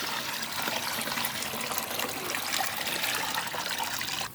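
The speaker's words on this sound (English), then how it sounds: "Cold water for the quench." Cold water pours steadily onto hot roasted gold ore, giving a continuous hissing, splashing rush close by that stops abruptly at the end.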